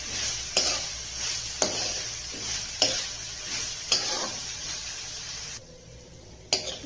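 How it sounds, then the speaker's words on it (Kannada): Cauliflower gobi sizzles steadily in a pan while a spoon scrapes and stirs it, leaving regular sharp clicks about once a second over the frying hiss. "ಗೋಬಿ ಹಾಕಿದ್ಮೇಲೆ ಚೆನ್ನಾಗಿ ಮಿಕ್ಸ್ ಮಾಡ್ತೀನಿ"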